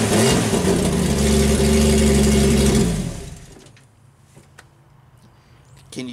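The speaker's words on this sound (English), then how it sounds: "We're cutting apart a muffler." A power tool cuts apart a car muffler with a loud, steady, droning whine for about three seconds. It then stops, leaving quiet scattered clinks and rattles.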